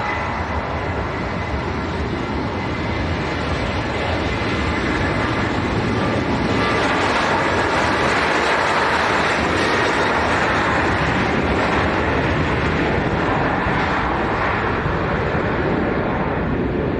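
A Boeing 767 at Leeds Bradford Airport gives a loud, sustained broadband jet roar that holds steady and swells slightly partway through, with no talking.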